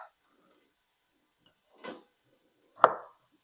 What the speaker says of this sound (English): I'm going to start to chop up my tomatoes.